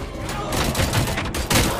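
Gunfire in the video game Robocop Rogue City: a rapid run of loud, close shots that continues for the whole moment with no pause.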